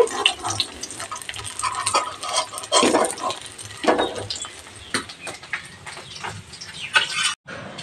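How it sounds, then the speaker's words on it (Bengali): Oil sizzles and crackles in a kadai while a metal spatula scrapes and clinks against it in uneven bursts, lifting fried katla fish pieces out. "এইভাবে খুন্তি দিয়ে তুলে তেল ঝরিয়ে ঝরিয়ে নামিয়ে নেব"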